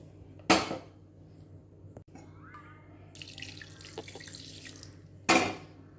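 Cold tap water runs into a pot of lemon-curdled milk for homemade paneer, a steady pouring splash bracketed by two sharp clanks of a vessel, with no talking.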